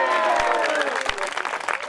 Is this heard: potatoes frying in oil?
no